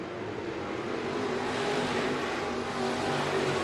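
Race cars circling Bakersfield Speedway during a weekly series race, running three wide down the front straightaway: a distant, continuous engine drone washing over a steady broadband rumble.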